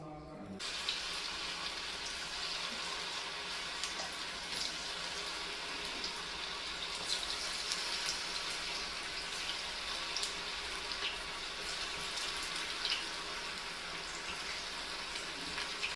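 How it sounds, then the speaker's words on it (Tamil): Pieces of kalan sizzle in hot oil, a steady, bright, crackling hiss that runs unbroken throughout while a person talks over it. "இதோடவே நம்ம இப்படியே போட போகிறோம், எண்ணெயில் போட போகிறோம்"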